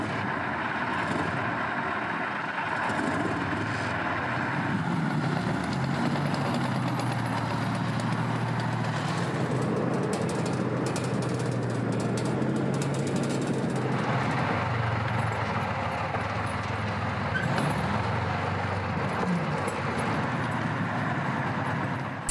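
The 520-horsepower engine of an IS-3 heavy tank rumbles steadily at a moderate distance, a continuous low mechanical drone with slight shifts in tone and no pauses.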